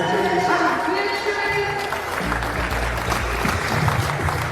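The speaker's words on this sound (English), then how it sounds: "Let us clap for Beatrice." An audience at a Bitcoin unconference graduation in Kenya applauds a graduate taking the stage, with steady, dense clapping and some crowd noise continuing throughout.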